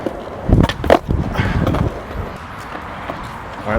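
Skateboard pop shove-it trick performed after years away from skating, with wheels rolling and a sharp board pop and clatter near the start, followed by steady rolling noise and outdoor wind.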